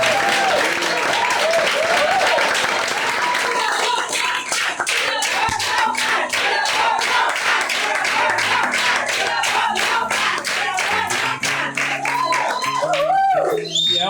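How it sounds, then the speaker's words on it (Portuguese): A round of applause from the audience at a talk by a therapist: dense, loud, continuous clapping from many hands for about fourteen seconds, with cheers and voices mixed in underneath. "uma salva de palmas"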